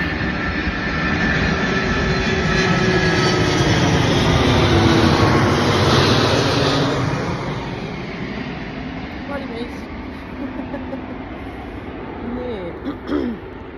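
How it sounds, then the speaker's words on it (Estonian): A propeller airplane passes over a forest, its engine drone swelling loud near the middle and then fading into the distance while a person talks. "Nii, meie teraapia lennuk tuleb jälle."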